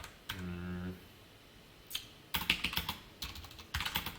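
A computer keyboard tapped in short clusters of quick clicks, close and fairly quiet, separated by pauses, with a brief hum-like tone near the start.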